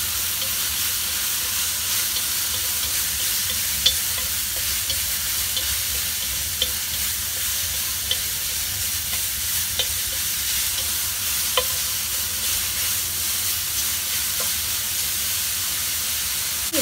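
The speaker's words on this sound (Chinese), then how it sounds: "爆香啲姜片啦，咁加啲金菇落去啦" Ginger slices and enoki mushrooms stir-frying in a wok, a steady close sizzle and hiss of hot oil running throughout, with faint scrapes and light clicks of the spatula now and then.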